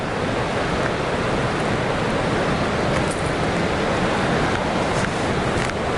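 Yudaki waterfall in Nikko, a constant broadband roar of cascading water, loud and unbroken without pauses or speech.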